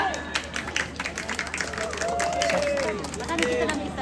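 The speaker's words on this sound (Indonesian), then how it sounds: "Sekali lagi kita berikan tepuk tangan" Audience applause for contestant number 2 at a church Easter camp solo singing competition in Sangalla, a burst of many hands clapping with crowd murmur, lasting several seconds alongside background chatter.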